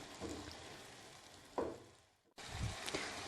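Garlic frying in a pan for matar pulao gives a quiet, steady sizzle with a few stirring scrapes and a brief pause before the crackle picks up again. No one speaks.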